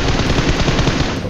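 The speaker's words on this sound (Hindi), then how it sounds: "लेफ्ट साइड से मेरे गोली चल रही थी, आवाज़ आ रही थी" Rapid automatic gunfire in the mobile battle game PUBG Mobile: a dense, loud, unbroken burst of shots close up, with no talking.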